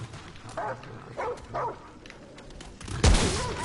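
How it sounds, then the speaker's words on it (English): A dog barks a few times in the video game Remnant From The Ashes, short separate yelps spread across the clip over a low ambient game background, with a louder burst near the end. "I hear a dog."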